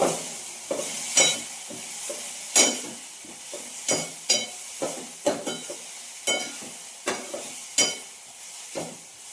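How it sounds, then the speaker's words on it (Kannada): Cabbage frying in a pan as a masala filling for wheat dosa, with a soft continuous sizzle broken by a steady series of sharp, close scraping stirs and no speech. "ಎಲೆಕೋಸು ಹೀಗೆ ಚೆನ್ನಾಗಿ ಫ್ರೈ ಆಗಬೇಕು."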